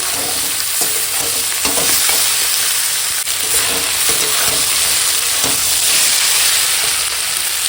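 Boiled, drained jackfruit, tomato, chickpeas and potatoes fry in a pan with a steady, loud sizzle and hiss, broken by scraping stirs and a few soft knocks throughout.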